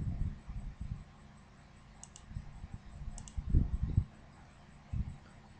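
A computer mouse clicks several times in quick, sparse presses close by, over a faint steady hum, with no talking.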